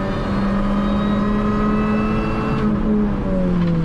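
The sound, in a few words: Mini Cooper race car accelerating on track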